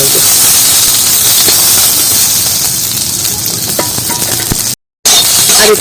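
Onion, garlic and chilli fry in hot oil in a pan, a loud, steady hissing sizzle with occasional clinks, broken by a brief gap of silence near the end.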